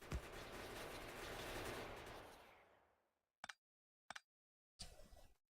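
Gun turrets in Factorio fire piercing rounds in a loud, dense sustained burst that fades out, followed by three short separate bursts after a pause.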